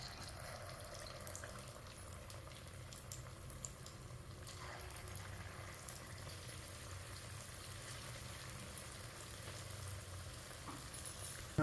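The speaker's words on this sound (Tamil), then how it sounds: "இது எண்ணெயில் போட்டு பொரிக்க போகிறோம்." Continuous bubbling sizzle of raw banana kola balls deep frying in hot oil, steady and close, with faint kitchen clatter.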